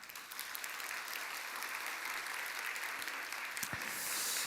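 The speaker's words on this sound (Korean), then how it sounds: "인사하실 때 다 같이 격려의 박수를 해 주시기 바랍니다." A church congregation at a Sunday service gives encouraging applause to a departing pastor and his wife: a dense, even, moderately distant patter of clapping throughout, brightening slightly toward the end.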